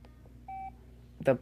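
A single steady electronic key tone from an Alcatel A394C flip phone keypad sounds briefly in a quiet room, followed by a short burst of a voice.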